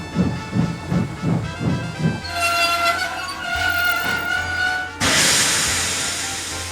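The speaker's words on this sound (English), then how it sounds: "Henry was pulling a goods train headed to the Ellsbridge goods yard" An animated steam engine hauls a goods train toward a goods yard: rhythmic chuffing puffs open the scene, then give way to a ringing, tonal rail sound and a sudden loud burst of steam hiss near the end.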